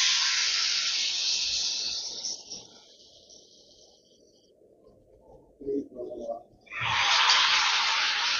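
Aloo kachori frying in hot oil in a wok, a loud steady hiss that fades to near silence, with faint low crackles, then surges back to a strong sizzle as more pieces go in.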